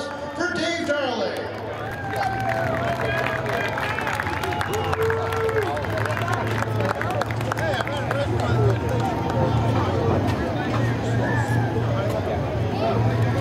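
Crowd at Seekonk Speedway applauding a truck feature race winner in victory lane, steady outdoor clapping and cheering mixed with crowd hubbub and a low engine-like hum throughout.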